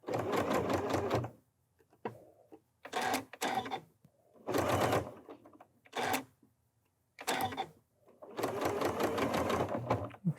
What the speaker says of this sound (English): you just go and you reinforce your seam on the machine